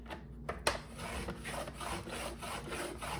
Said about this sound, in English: I'm going to score it at 2 1/8 of an inch.